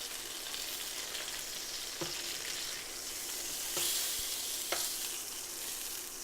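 Chicken thighs crisp in a hot pan with a steady, fairly quiet sizzle, broken by a few sharp pops and scrapes.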